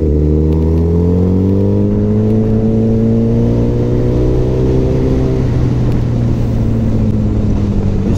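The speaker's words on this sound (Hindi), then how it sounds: "अब थोड़ा अच्छा लग रहा है मुझे चलाने में, क्योंकि अब ये थोड़ा सा इसका इंजन गर्म हुआ है शायद।" A Suzuki Hayabusa (Black Mamba) motorcycle engine runs steadily while being ridden on the road, a loud continuous drone with harmonics gently rising and falling in pitch, close and alone without any talk.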